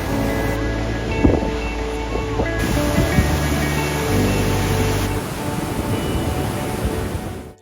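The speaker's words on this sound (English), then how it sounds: "made it to Lower Yosemite Falls." Lower Yosemite Falls in Yosemite National Park pours down in a constant, dense rushing roar, loud and steady throughout with faint crowd bustle beneath.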